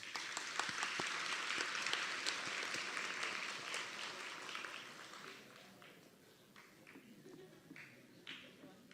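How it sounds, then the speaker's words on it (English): An audience applauds at a white coat ceremony with steady, dense clapping at a distance that gradually thins into scattered claps, with faint voices underneath. "All right, let's give them all one more round of applause."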